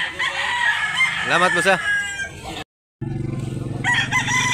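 At a chicken market, a rooster crows loudly nearby in a rising, wavering call, joined by clucking and someone speaking briefly, then a short pause before a steady mechanical drone and more fowl sounds.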